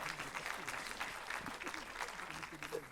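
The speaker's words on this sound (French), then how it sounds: "on peut les applaudir" An audience in a hall applauds Guylaine and Jean-Marie, with dense, steady clapping across the whole stretch and some voices mixed underneath.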